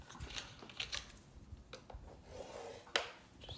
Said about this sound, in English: I'm going to go ahead and score this in half.